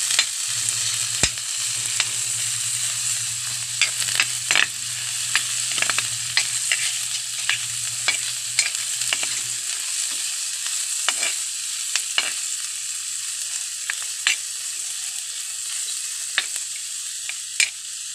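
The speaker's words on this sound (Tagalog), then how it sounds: "Tapos lalagay na po natin ang sibuyas." Chopped onions sizzle in a frying pan for sardine cooking, a steady crackling hiss punctuated by sharp clinks and scrapes of a spatula stirring, with no talking.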